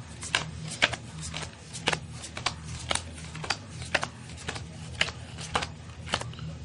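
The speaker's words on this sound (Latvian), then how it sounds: "Tagad jāliek kārtas ir divās šādās čupiņās." Playing cards dealt one by one into two piles on a table, close and crisp, a steady series of sharp flicks and slaps at a regular pace with no talking.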